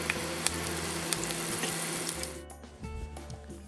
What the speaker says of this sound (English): adding in the green chilies into the hot oil